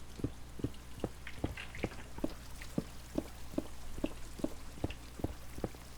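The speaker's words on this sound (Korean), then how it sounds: "엄청나게 물소리가 크게 들리는데?" Water in the Minecraft video game plays as a loud, continuous rushing wash, with regular sharp taps from in-game digging repeating about every half second.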